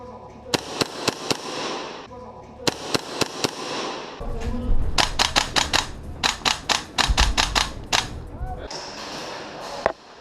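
Sharp snapping shots from a Tokyo Marui MP7A1 gas blowback airsoft gun ring out close by, first singly with gaps, then in quick bursts, followed by a few more separate shots.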